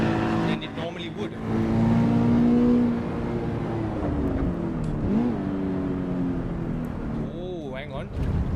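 A race car engine revs in Assetto Corsa EVO, a gruff, steady drone that rises and falls with gear changes, while someone talks over it throughout.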